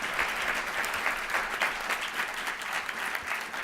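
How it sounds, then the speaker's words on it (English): Attendees at a research conference give the panelists a round of applause, a continuous, fairly soft clatter of many hands clapping that rises and falls slightly over a few seconds without speech. "if we can all give them a round of applause."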